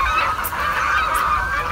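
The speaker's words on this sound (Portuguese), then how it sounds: "a briga de pato, sei lá, o que é aquilo" Several geese or ducks honking over one another at a riverbank, a dense, continuous squabble of harsh nasal calls that stays loud and close throughout, with two sharp high squawks standing out.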